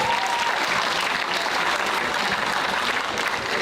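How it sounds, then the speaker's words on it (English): Sustained audience applause of many hands clapping at once, dense and even throughout at moderate loudness, with no voices standing out. "So please give them a hand clap right now for their effort"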